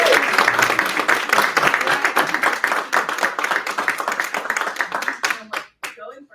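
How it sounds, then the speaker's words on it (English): An audience at a gaming pitch competition breaks into dense, sustained applause, steady and fairly close for about five seconds before thinning out to a few scattered final claps. "Huge round of applause for"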